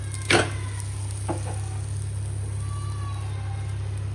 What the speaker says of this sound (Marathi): आता मस्तपैकी तेल गरम झालेले तर मी तळून घेणार आहे